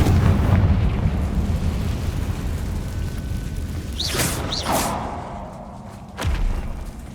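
Confringo fire spell from Hogwarts Legacy bursting with a deep booming blast inside an old abandoned chamber, a whooshing crackle trailing off and a second thud near the end, no talking.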